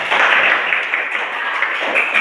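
Students in a classroom give a brief round of applause during a math lesson on integers, a thick, even wash of many hands clapping at once, fairly loud and close.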